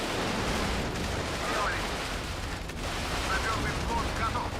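Artillery and mortar fire in WARNO, a video game: a dense, continuous wash of distant booms and crackling impacts at moderate, steady loudness.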